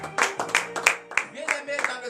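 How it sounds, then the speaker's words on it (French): A congregation at Tuesday morning prayer in Benin clapping in rhythm and acclaiming God, a few sharp, fairly close claps mixed with voices. "Donnez de vive acclamation à l'Éternel."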